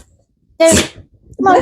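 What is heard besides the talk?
sneeze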